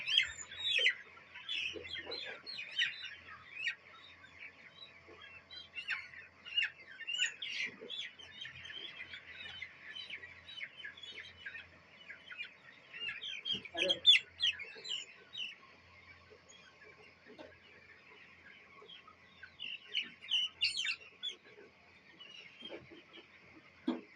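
Hens cluck and chirp continuously in a busy flock, a steady layered chatter with occasional louder calls, moderately close.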